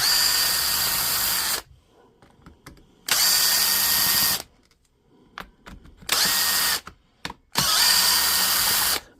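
A cordless power driver backs screws out of a Dewalt DCH333 rotary hammer during a repair, four loud sustained whirring bursts separated by quiet pauses with small clicks and handling noises.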